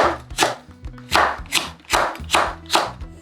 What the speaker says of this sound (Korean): 홍고추도 같은 모양으로 썰어주세요.